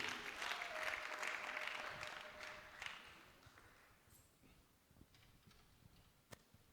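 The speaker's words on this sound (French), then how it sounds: "On applaudit le Seigneur et on se tient debout." A church congregation applauds during a worship service. The clapping is moderate and fills the first few seconds, then thins into a few scattered claps and fades away.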